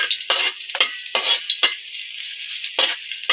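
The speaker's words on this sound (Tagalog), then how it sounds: "Hintayin natin mag-brown ang ating bawang bago ilagay si loya." Garlic frying in a pan, browning with a steady high hiss broken by repeated loud bursts of scraping and stirring, close and with no voices.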